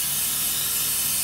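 An airbrush sprays paint onto an Airfix Gloster model kit, a steady close hiss of air and paint mist running without a break.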